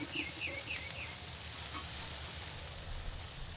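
Onions fry in oil on a preheated, pre-oiled Blackstone propane griddle at medium heat, giving a steady, even sizzling hiss throughout, with a few faint chirps early on.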